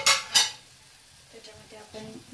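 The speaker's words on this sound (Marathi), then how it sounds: "आपला कांदा टमाटो चांगला परतून झालेला आहे" Onion and tomato being sautéed in a pan for egg curry, with two sharp stirring scrapes at the start followed by a faint, steady sizzle and light clinks of a utensil.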